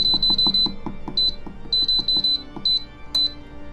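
An air fryer being set to 400 degrees for three minutes gives a series of short, high electronic beeps in quick clusters and single chirps, with soft button clicks between them.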